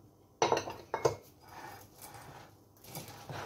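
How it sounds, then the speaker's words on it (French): Chocolate chips are stirred into cookie dough in a bowl, with two sharp clinks of a utensil striking the bowl at the start, then softer, muffled scraping and mixing strokes. "Et vous allez bien mélanger le tout"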